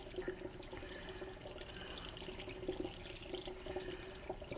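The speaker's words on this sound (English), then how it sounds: "I'm going to pour it in slow." Chocolate mead poured slowly from one container into another, a steady soft liquid trickle and splash running throughout at a fairly quiet level, with no talking.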